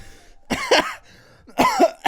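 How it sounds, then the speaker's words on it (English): Two harsh, close coughs a moment apart, each a short rough burst with a quiet pause between them. "I've got a bit of a cough."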